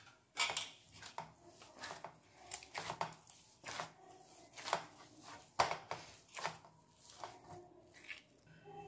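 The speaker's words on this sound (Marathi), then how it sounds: "त्याच्यावरती आपण थोडंसं तेल टाकूया आणि हाताने असं मळून घेऊया।" Wheat dough for masala puri kneaded by hand with a little oil, heard up close as a rhythmic series of soft pressing slaps and squishes, with no talking.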